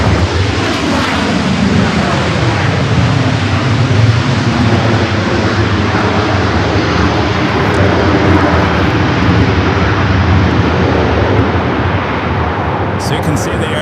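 Jet aircraft engines roar loud and steady at Los Angeles International Airport, a continuous broadband rumble that holds for the whole stretch with a brief tick near the end.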